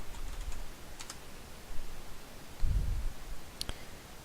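Computer keyboard being typed on, faint scattered key clicks and taps in a quiet room with a soft low thump partway through.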